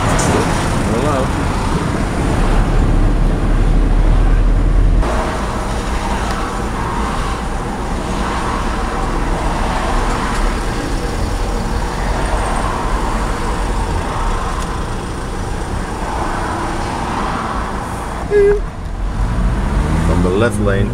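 Steady roadway rumble of slow highway traffic in a jam on the A13 from The Hague to Rotterdam, cars and trucks droning close by with people talking over it inside a vehicle.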